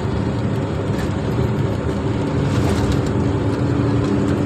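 A truck cruises in top gear down a gentle slope on a hill road through the Chauparan ghat in Jharkhand, its engine a steady, continuous drone with road rumble and no voices.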